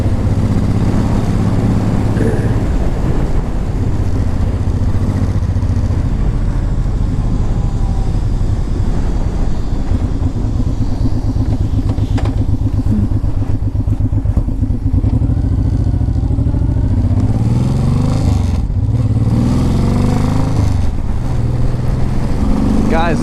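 Honda VTX 1800 motorcycle, a shaft-driven cruiser, riding at highway speed with a steady loud engine drone and wind rumble throughout, a rider talking over it.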